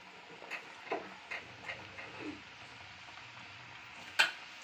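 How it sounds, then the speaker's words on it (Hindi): Gujiya fry in hot ghee over a low flame, giving a faint, soft sizzle with scattered light ticks and pops and one sharper click near the end. "ये हमारा घी गरम हो चुका है, अब हम इसमें गुजिया डाल रहे हैं और अब हम इन्हें फ्राई करेंगे"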